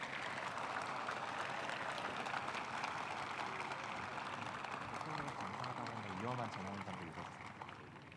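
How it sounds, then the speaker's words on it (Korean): A large audience applauds at a Korean fire service day ceremony, a steady wash of clapping that holds throughout and eases slightly near the end, with a voice speaking over it. "대통령께 큰 박수 부탁드립니다"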